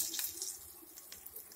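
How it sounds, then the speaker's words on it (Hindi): Gatte boiling water poured into cooked masala for besan gatte sabzi, a steady close pouring and splashing of liquid into the pan, running alone without talk. "अब इसमें जो गट्टू का पानी था वो डाल देंगे"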